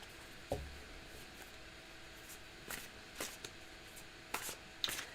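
Playing cards riffle and snap together in several quick bursts, close and crisp against a quiet background.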